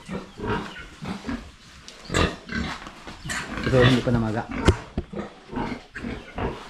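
Three farm pigs kept for slaughter grunt and squeal in a pen, close and loud, mixed in with someone talking throughout.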